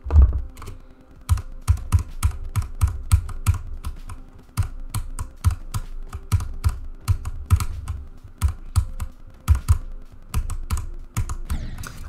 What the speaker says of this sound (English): Make your keyboard bend to your will as you smash it to oblivion